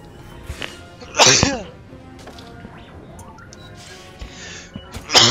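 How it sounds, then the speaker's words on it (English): A single sharp sneeze bursts out over faint game sound from a Star Wars: Squadrons space dogfight, followed by a quieter exhale and another sneeze onset at the end. "I keep sneezing."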